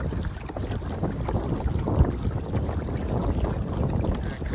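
Wind gusting across the microphone on the Alsea River near Waldport, Oregon while kayak fishing, a steady close buffeting rumble with faint water lapping beneath.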